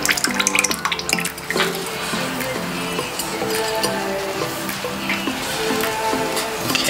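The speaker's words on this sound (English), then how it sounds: "I'm adding the lye water to the oils." Lye water pours steadily into oils for homemade coconut soap, a continuous liquid splashing and trickling with a few faint clinks of the container, close by and with no speech.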